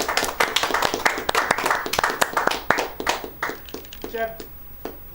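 Audience clapping at a speedrun marathon event showing The Legend of Zelda: The Minish Cap, a burst of scattered hand claps rising over steady room noise and game audio, fairly close and lively for about five seconds.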